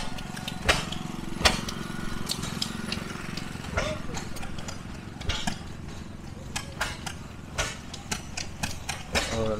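An antique gas engine with a generator mounted on the back runs at a farm power show, a steady low chugging under intermittent sharp knocks and clanks, while people talk nearby.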